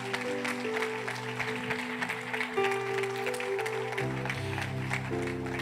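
A church congregation applauds steadily at low level, with sustained organ or keyboard chords ringing underneath the clapping.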